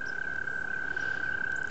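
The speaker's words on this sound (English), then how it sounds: "You heard the wonderful frog music." Frogs call at a pond in unbroken chorus, a steady shrill trilling drone that holds at one pitch throughout, loud and continuous with no voices over it.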